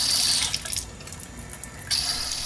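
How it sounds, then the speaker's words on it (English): Red wine pours through a siphon decanter in a kitchen, making a steady rushing, bubbling flow. A short dip midway precedes a louder surge, and no one speaks. "So now if I let the siphons back on, you can see how much more bubbles there are."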